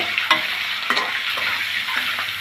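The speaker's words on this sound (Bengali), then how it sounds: "ডিমটা একটু ভেজে নিব" Egg frying in hot oil in a wok, a steady broadband sizzle with a few sharper scrapes and stirring clicks, close and fairly loud with no talking.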